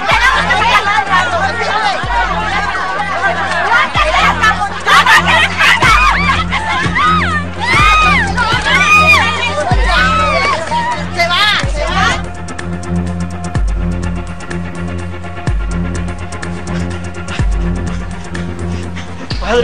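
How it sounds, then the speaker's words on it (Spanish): An angry neighbourhood mob shouts and screams while stoning a woman, a dense crowd roar of yelling voices over a steady thumping music beat that continues after the shouting fades. "A Mónica, le están tirando piedra, la gente la va a linchar"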